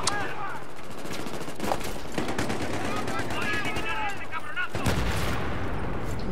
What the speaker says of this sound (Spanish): Yo disparo a mis colegas.